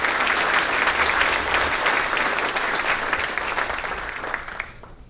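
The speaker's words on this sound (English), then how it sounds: "So if I can have a round of applause for our great city staff" Sustained applause from a crowd at a State of the City event honoring city staff, dense steady clapping that fills the room and then thins out and fades near the end.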